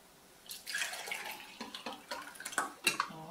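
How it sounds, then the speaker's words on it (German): Water poured out of a measuring jug into a sink, quiet splashing and trickling with irregular drips and spatters, close and alone. "Jetzt kippen wir das Wasser aus."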